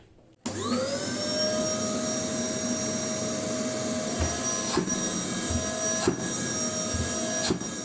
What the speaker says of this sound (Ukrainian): Беру свій старий гаражний пилосос.